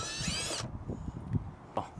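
A power drill spins out a screw from a Toyota 4Runner rear valance bumper in a brief high whirring burst, followed by quiet clicks and handling noises.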